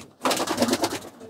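Racing pigeons cooing in a loft, a close, loud run of throaty rolling coos lasting about a second after a short quiet start.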